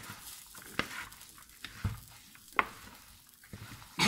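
A spoon stirs an onion and tomato paste mixture for gluten-free lentil köfte in a pot, giving scraping strokes and soft gritty swishes at an uneven rhythm, close and fairly quiet.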